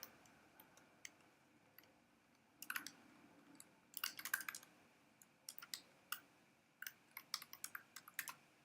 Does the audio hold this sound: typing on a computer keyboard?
yes